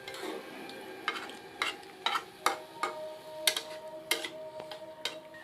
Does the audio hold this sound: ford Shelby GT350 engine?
no